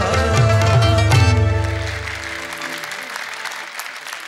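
An audience applauds after a Persian song, a loud, dense burst of clapping at the start that slowly thins and fades over a few seconds, with a sustained musical tone dying away underneath.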